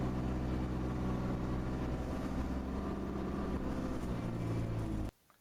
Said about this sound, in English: the engine's pitch is increasing